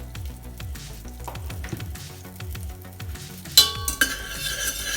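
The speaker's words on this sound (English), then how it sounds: "Just a pinch of oil like that." Butter and oil sizzling and frying in a pan for broccoli soup, with a steady crackle, stirring scrapes and a few sharp clinks of a utensil against the pot near the end.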